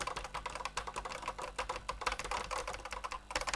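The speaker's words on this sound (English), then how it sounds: "Back to the BBC Micro and hear me press the keys." Rapid, rattling key presses on an old BBC Micro computer keyboard, a continuous clatter of clicks at close range with no talking.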